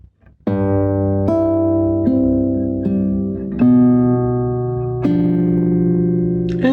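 Measure 7 of Sagreras Book 1 lesson 59 on classical guitar, a few sustained plucked notes and chords struck one after another at a slow even pace, close and clear with no talking.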